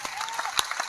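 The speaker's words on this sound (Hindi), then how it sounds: "उनके लिए तालियों की मांग करता हूं" An audience at a Hindu festival poetry gathering claps in a brief burst of scattered hand claps with crowd murmur, one louder clap standing out.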